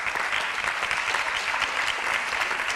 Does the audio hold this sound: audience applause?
yes